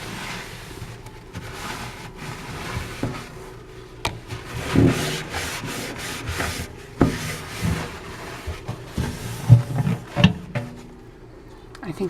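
The inside of a microwave being wiped out with a cloth, producing faint, irregular rubbing strokes and occasional light knocks and squeaks as hand and cloth move inside the cavity.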